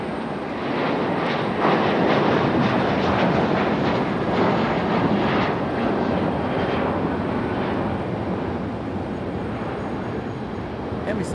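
An airliner lands at Raleigh-Durham airport in damp air, its loud, continuous jet roar swelling and holding close by, then easing slightly as it rolls out.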